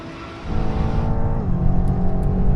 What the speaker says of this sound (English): Now we're going to do the same thing again, rolling race from 50 miles an hour.